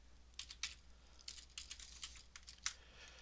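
Keys clatter on a computer keyboard as someone types to start up a Raspberry Pi, irregular soft clicks in quick bursts, faint and close.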